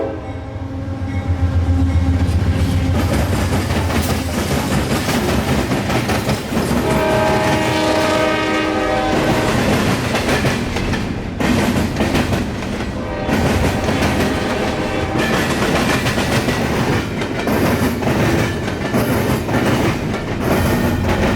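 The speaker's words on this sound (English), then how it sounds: "CSX train Q046 comes across the new diamond" A CSX freight train rolls over a new rail diamond crossing in Plant City, its horn sounding loudly near the start, followed by continuous heavy rumbling and rhythmic clacking of wagons passing close by.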